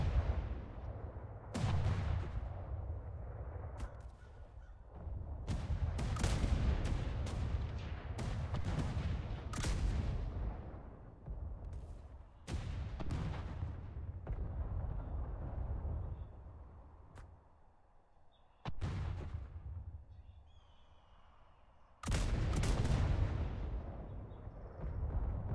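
Heavy booming volleys from ship cannons and catapults in a naval battle in the game Atlas, loud repeated blasts arriving in clusters with rumbling decay between them.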